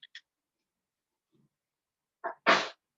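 A single sharp sneeze near the end, preceded by a quick intake of breath, with a couple of faint clicks earlier in an otherwise quiet classroom.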